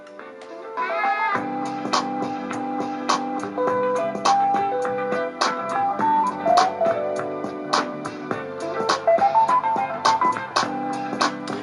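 Music plays through Bluetooth speakers: a steady bass and beat with melodic lines on top and sharp percussive hits, fairly loud with no talking.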